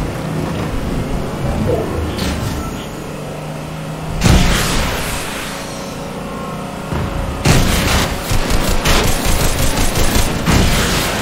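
Gunfire in the video game Fortnite comes as dense bursts of rapid shots, loud and close, with two heavier volleys around the middle and end over continuous game noise.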